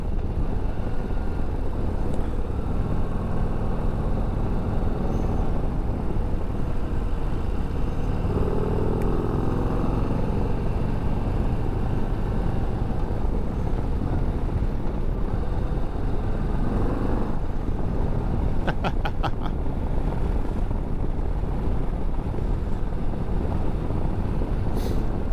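A Harley-Davidson Low Rider ST bagger pulls hard through its gears, its engine roaring steadily and loudly for the whole stretch. The traction control is working to keep the rear tire from spinning, and the noise carries a broad rush of wind.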